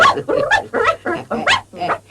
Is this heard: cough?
no